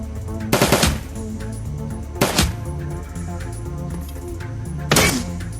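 Shotgun overwatch fire in the Shadowrun Dragonfall video game: three separate loud, sharp blasts spaced a couple of seconds apart over a steady low musical background, no talk.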